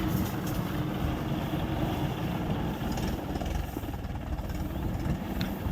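A tractor engine runs steadily while spraying a farm field, a continuous loud rumbling drone with no break and no voices.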